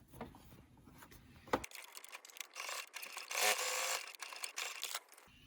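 A sewing machine runs in short bursts while stitching elastic onto a fabric face mask, with a whirring hum and clicks close by and quieter pauses between stitches.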